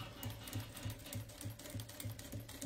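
A sewing machine stitches a patchwork wallet with a wide stitch, running steadily in an even rapid rhythm of needle strokes, close and moderately quiet, with no talk.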